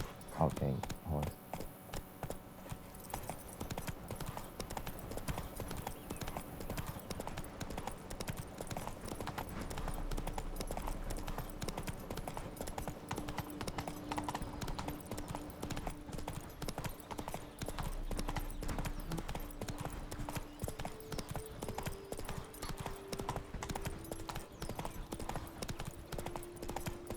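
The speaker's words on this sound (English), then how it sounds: "Come on, horse." Rhythmic clip-clop of a horse's hooves galloping steadily in The Witcher 3 game, loud and continuous throughout with game music and occasional talk layered underneath.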